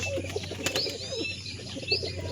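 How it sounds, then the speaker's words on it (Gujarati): Pigeons take off with a short burst of flapping wings, fairly close, alongside a few faint chirps against a low steady background hum. "આપણા કબૂતર બધા ઉડાડ્યા છે"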